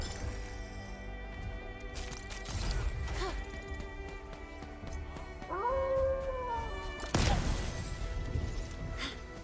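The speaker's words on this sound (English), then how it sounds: "Don't howl at me." Wolf howl in the video game Arknights: Endfield, a rising then falling wavering cry heard once amid game music, with crashing and smashing impacts before and after.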